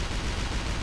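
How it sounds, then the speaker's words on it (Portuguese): A tank cannon firing in a war video game, one dense broadband boom filling the whole moment, loud and continuous with no voices over it. "Lá vai o tiro do Rimaru"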